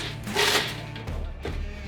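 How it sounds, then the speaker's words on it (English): Steady crackling sizzle of Belgian fries frying in hot oil, a dense hiss with a low rumble underneath, close and continuous. "This is the sound of well-baked fries."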